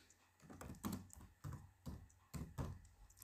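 Typing on a computer keyboard while entering text into Microsoft Excel cells: soft, close key taps arrive in small bursts with brief pauses between them, no voices.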